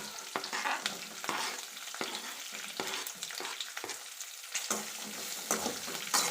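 Onions frying in a pan while being stirred, a steady sizzle broken by repeated scraping strokes of the spoon, close and alone without talk.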